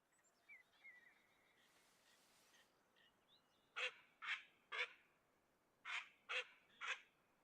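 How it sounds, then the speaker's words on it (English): Mallard ducks calling in a Kentucky hunting video game, two bursts of three loud, evenly spaced quacks standing out against a quiet background of faint, scattered distant calls. "I hear ducks everywhere."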